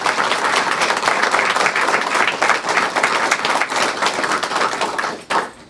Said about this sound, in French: je pense qu'il mérite vraiment une bonne main d'applaudissement